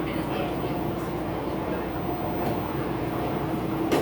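A Chicago Brown Line elevated train rolls along with a continuous rumbling drone and faint steady hum, heard from inside the car under an automated announcement voice.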